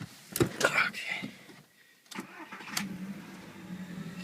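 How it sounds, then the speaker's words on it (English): A 2001 VW Jetta with a 1.8T engine and an added HHO hydrogen generator cranks briefly and starts, then settles into a steady low idle, heard close up. "I'm going to turn the engine on just so you can see it runs and everything"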